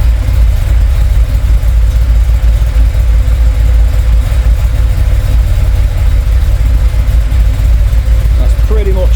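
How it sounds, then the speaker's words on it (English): A classic Porsche 911 engine idles at full operating temperature, a loud, steady low rumble that holds unchanged from start to finish. "I'm going to check the oil level now the car is up to temperature with the engine running"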